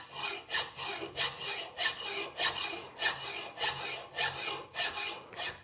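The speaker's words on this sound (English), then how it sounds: "So when I go like that, I'm actually grinding steel and I'm pushing down with a bit of pressure." Mill file rasping across the steel sole of a hand plane, about a dozen even, rhythmic push strokes with brief pauses between, close and clear with no talking.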